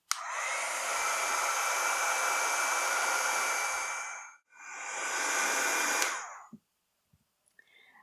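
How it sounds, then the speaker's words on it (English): Heat tool blowing a loud, steady hiss of hot air to melt embossing powder, running in two long bursts separated by a brief pause, then cutting off to near silence. "I'm going to bring in my heat tool and heat set this."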